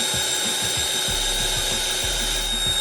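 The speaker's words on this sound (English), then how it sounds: "Whisk it together with electric mixer or hand whisk until thickened" An electric mixer whisks whipping cream for a toffee cake frosting, giving a steady, close, unbroken whirring hum with a low rumble underneath, heard alone without talk.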